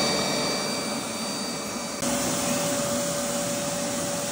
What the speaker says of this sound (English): Let's turn on our vacuum.